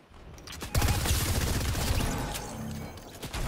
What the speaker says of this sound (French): Il me tire. Il a un snipe.